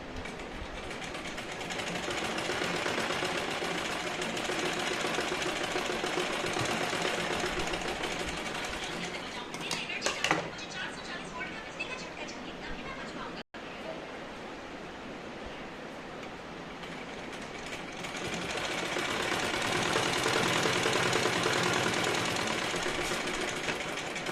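A domestic sewing machine stitches fabric and buckram for a belted salwar, a continuous fast whirring run heard up close, with a brief pause and mechanical clicks midway before the stitching resumes and grows louder.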